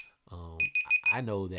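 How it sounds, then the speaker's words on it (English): A phone alarm chiming in a podcast recording, a short series of repeated high electronic beeps heard close up, overlapping a person speaking. "that was my alarm."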